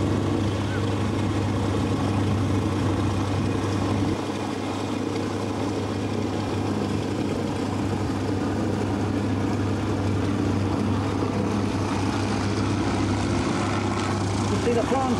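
An L-19 propeller aircraft making a very slow flaps-down pass at Little Gransden Airshow, a steady low engine drone holding at an even level throughout.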